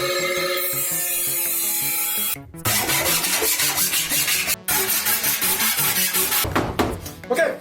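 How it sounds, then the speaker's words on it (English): An angle grinder cuts straight lines through a car body panel to open a window, a loud, steady grinding rasp in several long passes broken by short pauses. "just use the angle grinder and just cut straight lines off of this"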